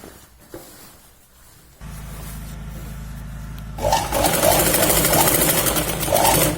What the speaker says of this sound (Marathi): आता बघा आपण या पॉइंटला धागा बाहेर न काढता इथे आपण डबल शिलाई घेतोय